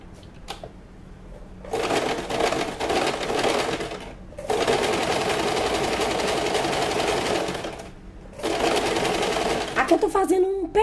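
A sewing machine stitches the lower edge of a bra close to the fabric's edge, running in three loud, close bursts separated by short pauses.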